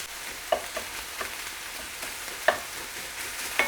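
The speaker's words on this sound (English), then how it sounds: "My vegetables are softened, so I'm gonna go ahead and add my ground beef." Ground beef sizzles in a pan with softened vegetables for a Thai basil stir fry, a steady frying hiss broken by several sharp spatula clacks against the pan, close and moderately loud.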